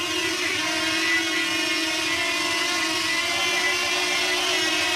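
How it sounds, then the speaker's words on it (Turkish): A DJI Flip drone's motors run in place with a steady, loud, high whirring drone, unbroken and constant throughout with no voices. "joysticklerin ikisini birden iç tarafa verdiğimde drone motorları bulunduğu yerde çalışıyor"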